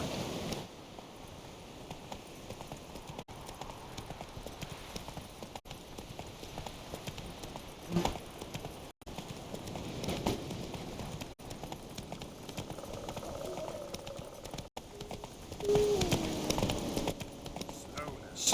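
Horse hooves clip-clop in The Witcher 3 as the mount trots along, a steady rhythmic patter under game ambience, with a voice speaking over parts of it.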